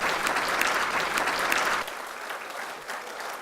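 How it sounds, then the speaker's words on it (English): An audience at a distinguished alumni awards ceremony applauds with dense, steady clapping that eases slightly toward the end of the short burst. "Now we can give them all a round of applause."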